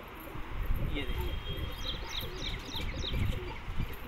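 A female pigeon held in a hand gives low, soft cooing over a steady background, with someone talking at times.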